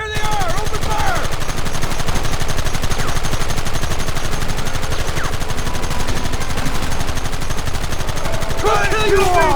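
Dense, continuous gunfire in Red Dead Redemption, a loud sustained barrage of overlapping rifle and pistol shots with shouting voices mixed in throughout.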